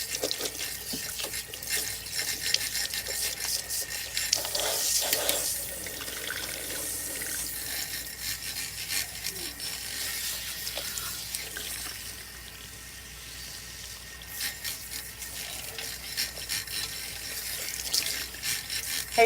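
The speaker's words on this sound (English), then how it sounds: "we're gonna rinse her with cool water" Steady tap water runs for about twenty seconds at a salon wash basin as a client's long hair is rinsed with cool water, a broad continuous hiss with small splashes and no talk.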